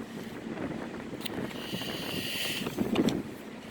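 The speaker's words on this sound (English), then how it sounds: "the wind spirits are going crazy today" Gusty wind buffets a microphone outdoors, a steady rushing roar with stronger swells and a louder burst near the end, no talking over it.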